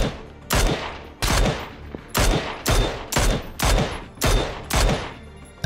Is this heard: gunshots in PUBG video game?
yes